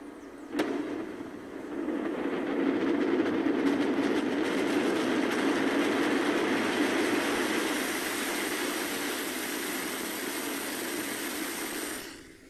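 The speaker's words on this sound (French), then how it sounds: "Allumage Vulcain. Allumage des EAP, décollage." An Ariane rocket lifting off as its Vulcain main engine and solid boosters ignite: a sharp crack, then a loud, continuous broadband roar that holds steady for about ten seconds before cutting off.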